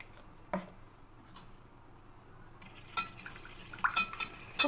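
Turmeric is stirred into heated ghee in a bowl for basanti pulao, giving quiet, sparse clinks and light scrapes of a spoon against the bowl over a faint background, soft and close.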